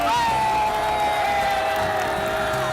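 A crowd at a political rally in South Korea sends up a sustained, fairly distant roar of cheering and shouting.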